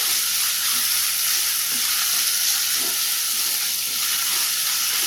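Capsicum pulao rice stirred in a hot pan, with a continuous close sizzle and hiss and faint scraping stir sounds underneath, no talk.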